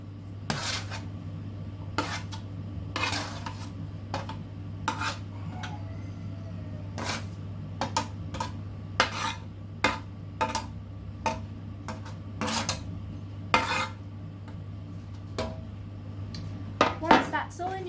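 Cooked pumpkin being placed into a baking dish for a vegetarian quiche, with scattered clinks and taps of a utensil against the dish over a steady low hum, sharper knocks near the end.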